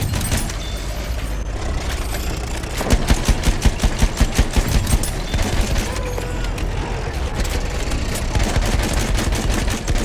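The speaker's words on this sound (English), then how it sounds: "Machine gun right there!" Machine gun fire rattles through a Battlefield 1 battle in sharp, rapid bursts of shots, loud and close, layered over a constant din of combat.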